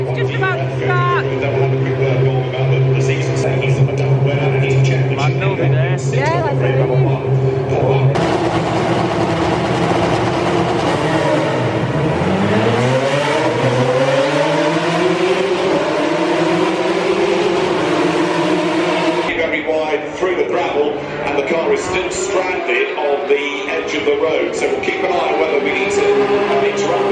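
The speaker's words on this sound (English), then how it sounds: "We're going to watch the F3 race now. It's just about to start." F3 race cars at Silverstone during the British Grand Prix weekend roar past in a loud continuous drone, with rising and falling engine pitch sweeping through as they pass, while voices chatter in the crowd throughout.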